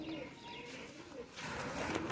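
Kabuli high-flyer pigeons coo softly in a loft, low faint murmuring calls against a rustling, noisy background.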